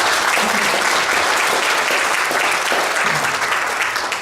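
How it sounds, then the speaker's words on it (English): A crowd applauds for a group of kids at a youth conference, dense steady clapping that holds strongly throughout and tapers slightly at the end. "why don't you give a round of applause for these kids"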